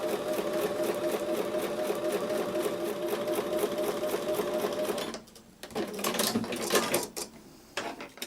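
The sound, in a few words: sewing machine stitching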